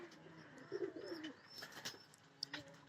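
Pigeons on a small rooftop farm give soft, low coos close by, with a few brief chirps and faint background noise, all fairly quiet.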